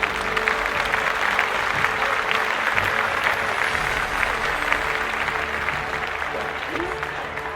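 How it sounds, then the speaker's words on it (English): Audience applause at a live show, a thick continuous roar of clapping from a crowd that stays loud and even throughout, with faint voices mixed in. "Once again, let's give a round of applause for Vanna Black."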